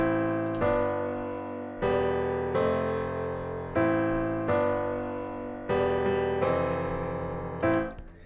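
Sustained synth chords change every second or so in a steady progression, each swelling in and fading slightly, played alone without voices.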